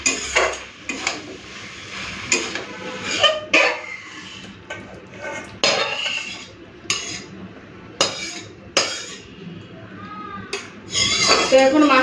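Curry stirred in a pot with ground cumin and dry chilli, a metal spoon scraping and clanking against the pot in repeated bursts over a faint sizzle, close and fairly loud.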